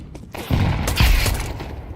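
Video game gunfire and a grenade blast: a sharp burst of shots followed by a heavy booming explosion that rolls on, loud and close, with no talk.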